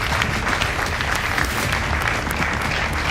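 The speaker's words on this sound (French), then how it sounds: "on applaudit pour couronner le titre" Loud, dense applause from a crowd at an awards ceremony, continuous clapping sustained evenly from start to finish.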